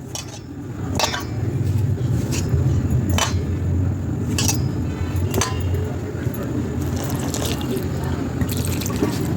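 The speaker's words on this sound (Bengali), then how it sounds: "অল্প অল্প করে জল দিয়ে ময়দাটাকে মেখে নেব" Water is added a little at a time to flour, salt and oil while kneading momo dough. A steady splashy wash runs under occasional clinks of a bowl or pot, with no pauses.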